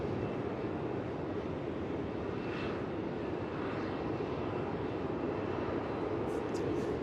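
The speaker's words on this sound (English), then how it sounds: "Just wait until this Singapore Airlines gets a little bit closer." Singapore Airlines airliner approaching Melbourne Airport, heard as a steady, continuous distant jet roar that holds unchanged throughout, with no talk.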